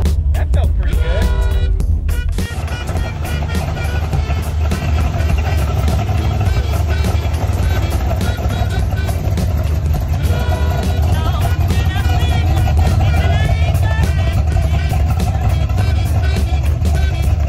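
A Chevy Nova sleeper car on its first test drive, engine roaring loud and sustained as it spins, with a brief dip early on and people talking over the noise.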